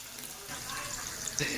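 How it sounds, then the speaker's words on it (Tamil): Prawns frying in a pan for prawn biryani give off a steady, bubbling sizzle that grows slightly fuller partway through, with a few sharper pops near the end, heard close in a kitchen. "நல்லா ஃப்ரை ஆகிட்டு வருது"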